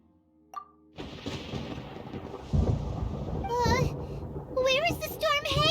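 Thunder cast in the Genshin Impact video game: a sharp crack then sustained rumbling storm noise, fairly loud, with game music and vocal sounds layered over it.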